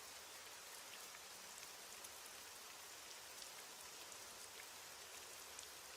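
Steady rain falls at night, a dense even hiss of drops on surfaces with no voices, constant and moderately loud throughout.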